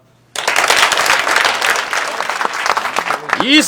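A room full of people bursts into dense applause approving a motion at a meeting, loud and close, sustained for about three seconds after a short quiet start, with a voice rising near the end.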